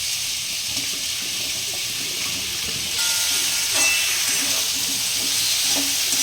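Eggplant pieces drop into a hot pan and start sizzling, a bright frying hiss that jumps louder partway through, with faint stirring clinks.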